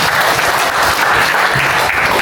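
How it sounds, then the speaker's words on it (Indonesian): Loud, continuous applause fills a gathering at a home for the elderly during a church outreach visit, thick and close throughout with no pauses. "Tepuk tangan untuk Tuhan Yesus Kristus."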